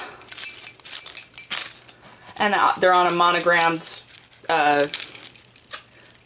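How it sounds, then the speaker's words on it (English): Keys jangle in a diaper bag, bright metallic clinks in short bursts at the start and end, with someone talking over and between them. "I have my keys."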